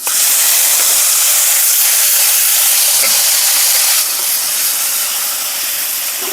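A loud, dense hiss of spice paste hitting hot oil for a raw banana curry, continuous and close-up, easing slightly in intensity after a few seconds.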